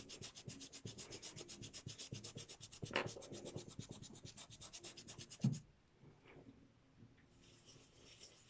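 Brush scrubbing distress ink through a stencil, a close, continuous dry rubbing and scratching with steady rhythmic strokes for about five seconds, then near quiet with a few faint taps.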